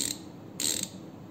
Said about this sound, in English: this can be identified by the ratchet sound and feel